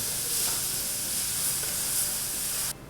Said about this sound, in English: our ground beef seems to be cooking well